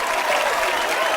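A packed studio audience applauds, giving a dense, steady wash of clapping with no single claps standing out.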